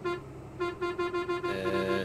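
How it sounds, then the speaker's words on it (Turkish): Truck horn in the Euro Truck Simulator driving game, honked in a series of short toots followed by one longer sustained blast, loud and close over a low engine rumble. "Tamam kornayı buldum."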